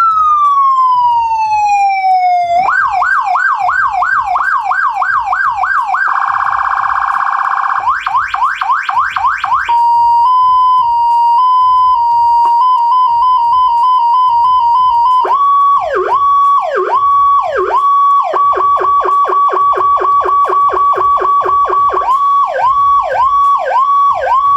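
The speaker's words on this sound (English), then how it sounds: "you have your turn knob with your three sirens" A SoundOff Signal FR100 series emergency siren cycles through its tones: a falling sweep, rapid wails, fast yelps, a steady two-note hi-lo pattern and a pulsing phaser-like warble, all loud and close with no voices.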